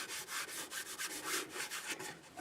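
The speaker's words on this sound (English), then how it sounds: "I think we are ready to sand." Sandpaper rubs against a spinning wood burl on a lathe, making a hissing scratch that swells and fades in quick repeated strokes, close and steady with no talking.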